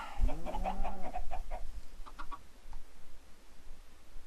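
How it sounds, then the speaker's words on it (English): A cluster of Minecraft chickens clucks in a flurry of short, quick calls early on, then thins to a few faint clucks over a low background hum. "That's quite the chicken fighting pit you got there."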